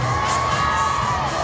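A concert crowd shouting together in unison, loud, dense and sustained, filling the whole stretch with massed voices and cheering.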